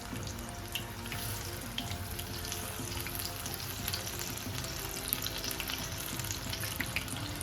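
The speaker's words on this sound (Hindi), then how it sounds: "ऑयल हमारा गर्म हो गया है। अब हम फिश डालेंगे इसमें।" Fish frying in hot oil, giving a steady, close crackling sizzle that holds evenly with no talk.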